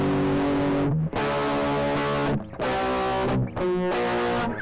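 An electric guitar played through a Morpher distortion pedal rings out in sustained, thick distorted chords, each held for over a second with brief gaps between, loud and close with no talking.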